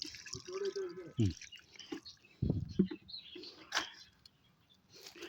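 Mixed liquid treatment for wilt disease is poured at the base of a plant as a second dose, giving short splashing and dripping bursts close by, mixed with voices talking.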